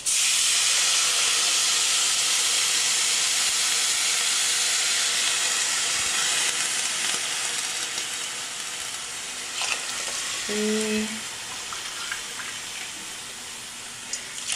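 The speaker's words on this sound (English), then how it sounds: "It's gonna sizzle when I add the first cup." Loud, steady hiss of water sizzling as it is poured into a hot pot of lentils, fading slightly over time, with a brief tonal clink partway through.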